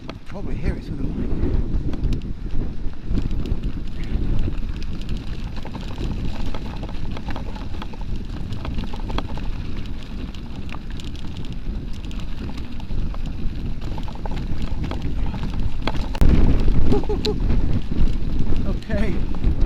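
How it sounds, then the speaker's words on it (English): Strong gusty wind buffets the microphone while mountain biking at Afan on a blustery day, a heavy continuous low rumble rising and falling throughout with bursts near the end. "It's really windy."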